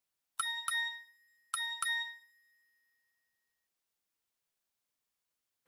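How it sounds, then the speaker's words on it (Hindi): A phone message notification plays four bright ding tones in two quick pairs, clear and close, then fades to silence. "संजना का मैसेज"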